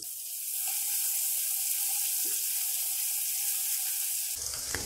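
Fennel, fenugreek seeds, whole red chilies and ginger-garlic paste roast in hot oil with a bright, steady, close sizzle that holds evenly before cutting off near the end.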